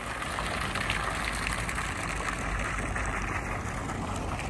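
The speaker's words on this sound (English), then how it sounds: "back to the water fountain here." Outdoor water fountain splashing by a street, a dense steady rushing and gushing wash of water that holds constant and loud throughout, with no voices.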